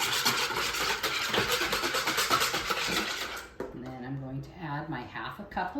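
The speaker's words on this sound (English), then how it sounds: "I've got my 2 eggs measured, and I'm going to whisk those first" Two eggs are whisked briskly in a bowl, a close, rapid rhythmic beating for a few seconds before it stops and a person starts talking.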